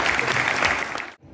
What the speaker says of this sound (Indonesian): Ya, tepuk tangan buat ya.